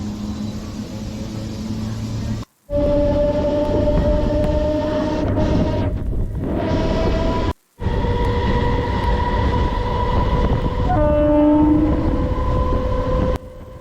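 Gudur MEMU express train running between Vijayawada and Gudur, heard from inside as a loud continuous rumble with steady tonal hum, two brief dropouts, and a horn-like tone late on.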